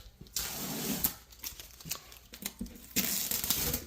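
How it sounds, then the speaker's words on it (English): Masking tape peeled off a wall in long tearing strips, a close, steady ripping sound in several pulls with brief pauses between them. "Now that the screws are in, we can take off the masking tape."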